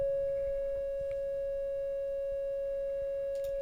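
A steady, pure synthesizer oscillator tone from a Studio H DPO/258e module, tuned to A, hums at one pitch without wavering, with faint low rumble and a couple of tiny clicks in the background.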